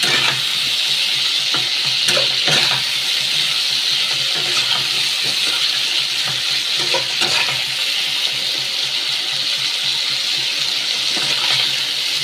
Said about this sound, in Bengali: আলু বেগুনটা ভালো করে লাল লাল হালকা লাল লাল করে ভেজে নিতে হবে